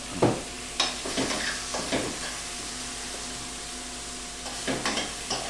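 Curry being stirred in a pan after a pinch of salt goes in, a quiet low sizzle broken by a handful of soft scraping stirs near the start and end, no talking.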